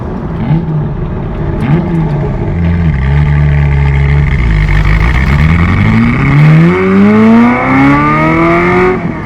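Engine of a Ferrari F355 with about 80k miles, idling slightly rough with an uneven low throb before a couple of rising revs climb and hold, loud and close, with no talk over it.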